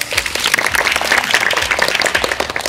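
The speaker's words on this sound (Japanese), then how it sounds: "拍手。" A small group claps after a short presentation at a course activity report, a brisk patter of individual hand claps, fairly close and lively.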